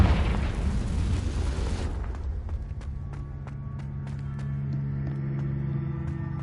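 A Confringo fire spell detonates with a loud, broad boom in Hogwarts Legacy, followed by a rumbling decay with a low sustained hum and scattered small crackles and pops.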